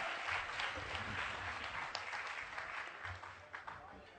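Audience applause welcoming a performer at a comic poetry gathering (kavi sammelan) for an Agrasen Jayanti celebration in Kaithal, a steady, fairly distant wash of clapping from a crowd lasting a few seconds with some low background murmur.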